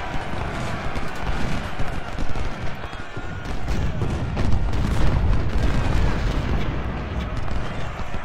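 Artillery fire in the video game Ultimate General: Civil War, a dense, continuous rumble of booms and cracks that overlap at a loud, even level throughout.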